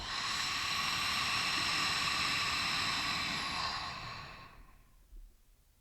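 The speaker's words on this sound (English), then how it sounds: "take a deep breath with me. In through the nose. And exhale out of the mouth." A single long, slow exhale, a soft airy rush of breath heard close and alone that swells steadily, then tapers off into near silence, with no talking.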